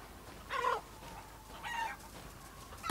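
Clucking chickens in the video game Resident Evil Village give two short, bright squawking bursts with a third starting at the end, moderately close over a soft ambient background.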